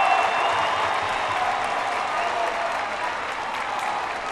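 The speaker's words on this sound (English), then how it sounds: "That's going to get the loudest cheer of the night at Toyota Field." A soccer crowd at Toyota Field during stoppage time of a San Antonio FC versus Rio Grande Valley FC match erupts in loud, sustained applause and cheering that fades slightly toward the end.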